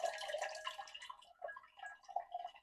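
Water drains and drips steadily from a soaked orchid pot after a fertilizer soak, a close, quiet patter of trickling and irregular drops with no talking.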